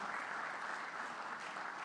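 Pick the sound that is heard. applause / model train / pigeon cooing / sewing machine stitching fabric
applause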